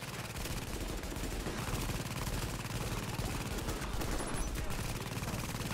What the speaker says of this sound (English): The boss is shooting my turret.